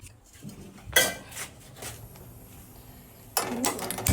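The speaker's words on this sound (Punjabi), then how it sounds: "ਪਹਿਲਾਂ ਪਤੀਲਾ ਚੱਕ ਲਈਏ" A cooking pot is picked up in a home kitchen, giving a few faint metallic clanks and scrapes spread across the clip, with a louder clatter near the end against quiet room tone.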